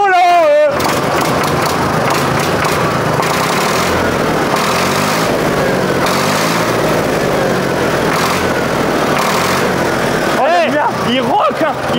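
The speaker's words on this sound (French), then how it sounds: "On va vous faire un test à l'accélération moteur chaud." SAME Condor 55 tractor engine, warmed up, revving steadily for most of the stretch with a continuous loud mechanical drone, while people talk over it throughout.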